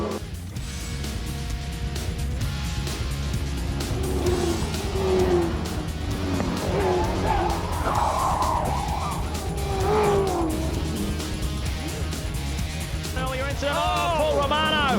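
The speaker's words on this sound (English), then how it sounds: "Paul Romano crunching the wall big time." V8 Supercars race cars roaring on track as one crunches hard into the wall, engine noise and screeching tires throughout with a commentator talking over it.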